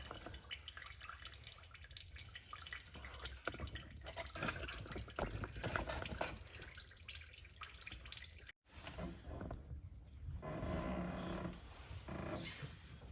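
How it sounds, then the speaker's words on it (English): CVT transmission oil pumped into a Subaru Legacy, a faint continuous liquid trickle and drip with fluid gurgling, briefly cutting out before resuming with a fuller pouring sound. "Pumping the oil"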